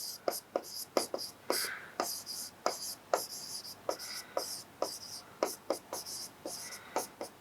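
Pen strokes from someone writing out a maths solution by hand for a Class 10 NCERT real-numbers exercise, a steady series of short scratchy taps and scrapes, close and fairly quiet, with no talking.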